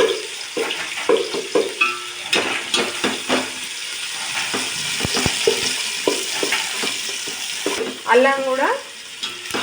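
Green chillies and ginger fry in hot oil, a close, loud, continuous sizzle with repeated scraping and stirring strokes against the pan and a few utensil clinks.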